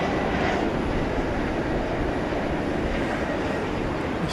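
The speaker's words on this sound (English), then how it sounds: "It's a 747-8. It's an 8-year-old plane." An eight-year-old Boeing 747-8 at DFW Airport at night produces a steady, loud broadband jet roar that stays constant throughout with no voices.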